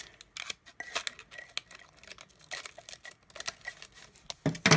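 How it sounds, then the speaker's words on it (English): Scissors snip through parchment paper for an epoxy glitter tumbler project, a quick series of close crisp cuts and rustles, irregular and steady throughout. "so I'm going to cut the parchment paper a little bit more"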